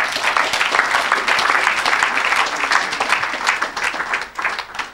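A church congregation applauds together in a dense, loud wash of clapping that holds steady, then thins slightly toward the end.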